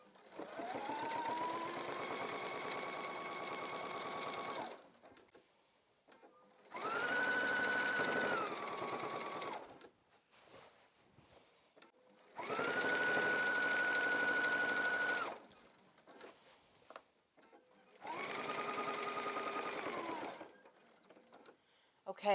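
A sewing machine stitches down the middle of an elastic waistband, running in four steady whirring bursts of a few seconds each, close and clear, separated by short pauses.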